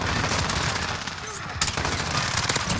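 Rapid P90 submachine gun fire in Modern Warfare on the Shipment map, a dense, loud rattling stream of shots that continues through the clip with other game sounds and faint speech.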